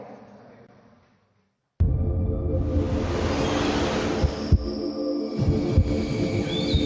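A deep rhythmic heartbeat pulse opens a Marca País México tourism campaign film, throbbing loud and steady over a low sustained hum and swelling whooshes after a brief near-silent start, with no voices.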